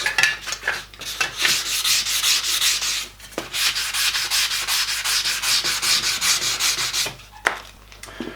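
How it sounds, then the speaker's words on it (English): A metal joint on a 5-inch gauge model steam locomotive is rubbed and polished by hand, with rapid rhythmic abrasive strokes, a brief pause, then more rubbing close up. "I won't bother polishing that anymore"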